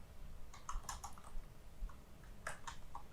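Quick bursts of clicky keystrokes on a computer keyboard while code is typed, close-up and fairly quiet, in uneven clusters separated by short pauses, with no voices.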